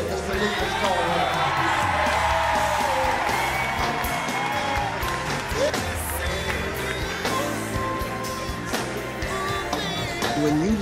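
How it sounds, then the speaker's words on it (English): A memorial audience applauds and cheers for the songwriter, with sustained crowd clapping, whoops and shouts layered over a busy, continuous background of music and voices. "give a big round of applause to the brother that wrote this song"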